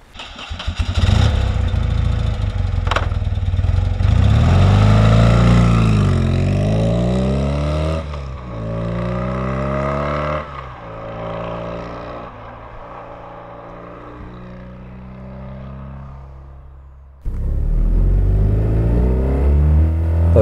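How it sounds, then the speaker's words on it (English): Sport touring motorcycle ridden on the road, its engine droning loud and close with rising and falling revs through gear changes, a clunky gearbox shifting between pulls, and a sharp surge of throttle near the end. "riding the bike now. If you hear it, gearbox a bit clunky"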